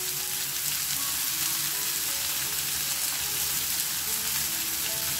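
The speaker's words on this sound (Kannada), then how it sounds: "ಇದಕ್ಕೇನೆ ಕರಿಬೇವು ಕೂಡ ಹಾಕೊಳ್ಳೋಣ ನೋಡಿ ಈ ಥರ" Curry leaves and long-sliced onion fry in hot oil with asafoetida, giving a steady dense sizzle and crackle, close and continuous, with faint stirring and no talk.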